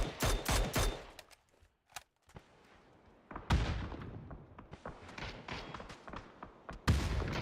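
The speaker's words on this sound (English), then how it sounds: "Huge nades from Fex." Grenade explosions and gunfire in the PUBG video game: a cluster of sharp bursts at the start, a near silent gap, then a heavy boom followed by scattered crackling shots and another loud blast near the end.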